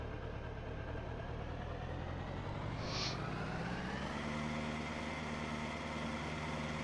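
Combine harvester engine running in Farming Simulator 2013, caught on a fence, a steady droning mechanical hum that rises slightly in pitch partway through, with a brief high chirp near the middle.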